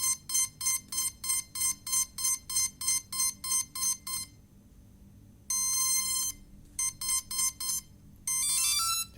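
Pixhawk flight controller, fitted as an upgrade to a CX20 drone, sounding loud electronic beeps: a steady run of rapid, evenly spaced pulses, then a pause, a sustained tone, more short bursts and a final warbling tone, with no talk.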